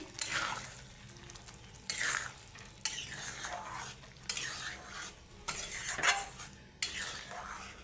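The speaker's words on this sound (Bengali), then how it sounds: "আমি ডালটাকে ভালো করে নেড়ে চেড়ে দেবো" A spoon stirs chana dal in a pot, giving repeated scraping, clinking strokes in bursts roughly every second, with a soft sizzle underneath.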